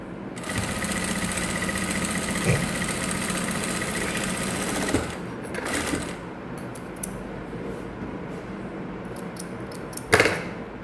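A sewing machine runs a double knot seam with a steady mechanical whirr for about five seconds, then stops and gives way to a few short, isolated clicks and handling taps at close range.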